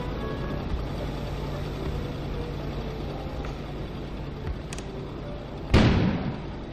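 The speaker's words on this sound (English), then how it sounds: "An explosion suddenly occurred outside." A sudden loud explosion in GTA V bursts near the end, cutting through a steady low rumble of game ambience.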